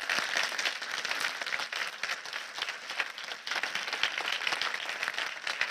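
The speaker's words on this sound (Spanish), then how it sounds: "para el que pido un fuerte aplauso" An audience applauding at the Foro Auditoría XIII auditing conference: dense, sustained clapping from a full room that holds steady the whole time, with a faint murmur underneath.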